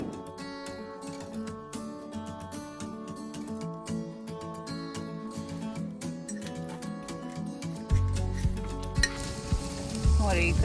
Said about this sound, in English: Cooking steaks on our outdoor grill.